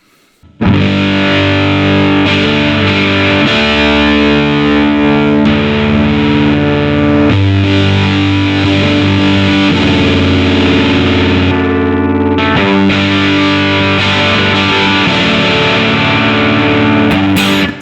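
Heavily fuzzed electric guitar through an MMK Electrics Pavlof fuzz pedal rings out in sustained chords, loud and close, with the tone briefly thinning and cleaning up before swelling back to full fuzz.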